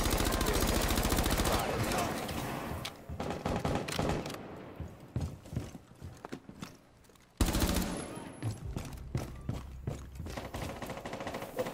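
Dense automatic gunfire in a ranked match of Rainbow Six Siege on the Hereford map, with sustained loud bursts that break into scattered shots, a brief lull, then a sharp renewed volley, with faint voices in between.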